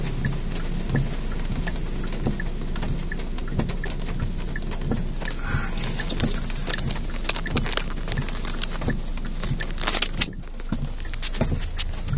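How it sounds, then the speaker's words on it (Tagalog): Heavy rain pours down steadily outdoors, a dense hiss with frequent drips and taps on nearby surfaces and low rumbles that may be thunder or passing traffic, with no speech over it. "Patay tayo nito guys, ulan pa naman."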